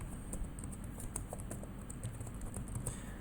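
Rapid, irregular clicks of a computer keyboard being typed on, fairly close and steady throughout, over a low background hum with no talking.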